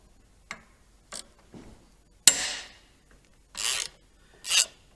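A 1/4 inch Allen socket ratchets and scrapes while loosening the handlebar bolts on a 2014 or newer bagger motorcycle, giving five or six brief clicks and rasping bursts, close and intermittent, with no talk.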